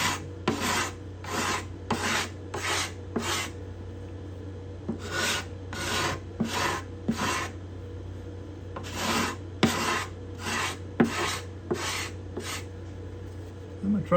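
A hand scraper rasps along the cedar-top bindings and purflings of a Desmond guitar in quick rhythmic strokes, grouped in bursts with short pauses between them, close and fairly quiet.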